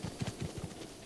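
Goats running in The Legend of Zelda: Breath of the Wild, a quick run of light hoof clatters in an uneven rhythm, fairly close and moderately loud, with no voice over it.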